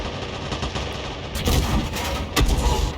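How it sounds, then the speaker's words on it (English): Loud, close machine gun fire from a tank in a video game, with sustained rattling bursts that swell heavily and punch harder near the end. "Those machine guns are very, very loud, aren't they?"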